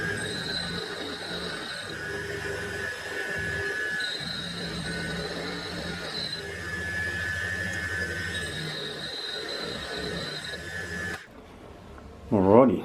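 A homemade tool and cutter grinder runs continuously as its wheel grinds a cutter, giving a steady whining, rushing drone with a faint voice underneath, cutting off abruptly near the end.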